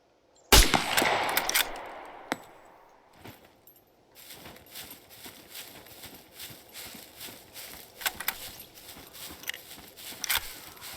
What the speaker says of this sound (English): Looks like I might as well go in with the shotgun.